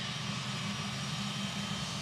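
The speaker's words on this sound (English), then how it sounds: "757 taxiing by" Boeing 757 taxiing at Memphis International Airport, a steady continuous jet engine hum and whine heard from a moderate distance, constant in level with no talk.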